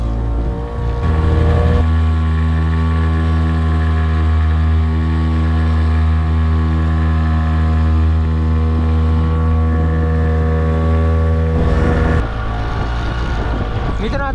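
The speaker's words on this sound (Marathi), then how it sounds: "इंजिन स्टार्ट झाले लावला एक गेअर आणि बोट चालली पुढे" A motorboat engine drones loudly and steadily up close on the sea off Mumbai, its pitch shifting as it revs near the start and end, with wind buffeting the microphone.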